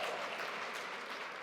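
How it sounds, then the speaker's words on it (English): A worship congregation applauding, a dense, even wash of clapping from many hands held at a soft, steady level for the whole moment, with no talking over it. "She is here, you can applaud for that too."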